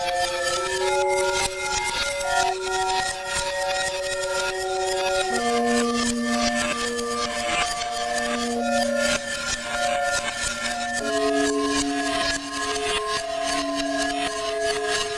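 An EMAX sampler plays a reversed, looped sample as a grainy, crunchy sustained texture with held pitched notes that shift in steps, loud and continuous without any voices.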